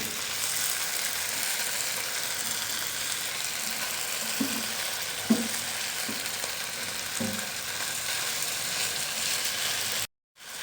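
Chicken pieces sizzle and fry steadily in a pan, a continuous hiss with a few soft stirring knocks partway through, close and without talk before cutting off abruptly near the end.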